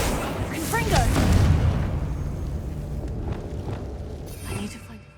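Confringo spell blast in Hogwarts Legacy, a booming explosion that swells and rumbles for a couple of seconds before fading, with a voice heard briefly near its start.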